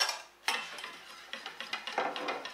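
Choux pastry mixture being stirred with cream and milk in a pan, a series of faint soft clicks and scrapes of a utensil against the vessel, irregular at first then settling into a quick rhythm, close and quiet with no voices.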